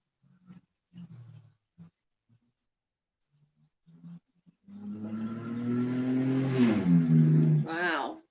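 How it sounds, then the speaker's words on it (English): A loud motor vehicle passes outside, rising into a rough, roaring engine sweep that swells and then fades, after brief bits of talk. "Wow, loud motor."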